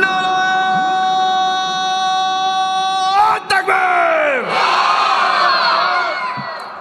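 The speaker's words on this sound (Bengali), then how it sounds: "তাকবীর দিয়ে দেন জোরে, দেখি আওয়াজ কতটুকু আছে" A large crowd at an Islamic waz gathering in Khulna roars a loud takbir response, following a long, drawn-out amplified call from one voice; the mass shout swells quickly and holds for several seconds.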